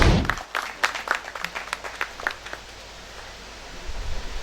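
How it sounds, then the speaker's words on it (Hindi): Audience applause at a PML-N youth wing political gathering in Punjab: a burst of clapping that thins into scattered, sparse claps and fades to quiet room tone. "आपकी तालियों की गूंज में।"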